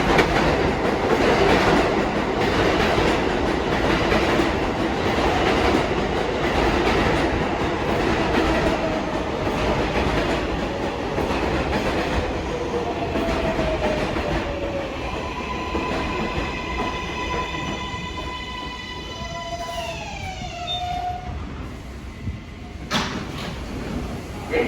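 An R188 7 local subway train approaches the station with a loud rolling clatter that eases as it slows, then gives a rising electric whine and a brake squeal near the end.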